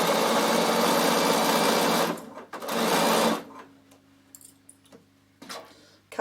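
A Bernina sewing machine runs a row of stitching on jacket fabric in two fast, buzzing bursts, then stops, leaving faint ticks and handling noises.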